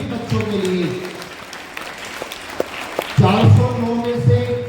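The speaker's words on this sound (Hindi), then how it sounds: "एक बार जोरदार तालियां इन सभी बच्चों के लिए" An audience claps loudly for students selected in the MSTSE exam at a school event, a sustained burst of applause swelling near the end, mixed with a voice talking over it.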